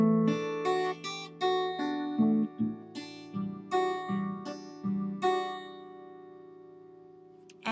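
An electric guitar picks a short riff of distinct plucked notes, some ringing together, ending with a lingering chord, played alone.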